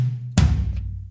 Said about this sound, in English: I have 2 toms going on,